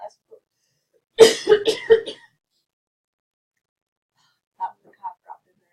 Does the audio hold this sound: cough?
yes